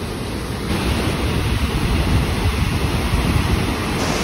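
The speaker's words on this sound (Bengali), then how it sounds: "এখান থেকেও কিন্তু বেশ জলের স্রোত ভালো বোঝা যাচ্ছে" Rushing river water at a viewpoint near Dhanbad, a steady broad roar of current with spray close by, continuous and fairly loud with some wind buffeting the microphone, no voices.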